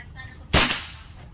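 A single sharp gunshot fired at a target during target practice on a shooting range, a close, loud crack that decays quickly over steady background noise.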